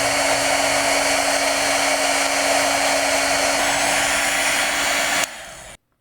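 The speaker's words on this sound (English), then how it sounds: "that's taken about 30 seconds or so using the heat gun to shrink that tube around the arm" A heat gun blows hot air to shrink tubing around the arm of a pair of glasses, a loud, steady whooshing roar with a whining tone that cuts off abruptly near the end.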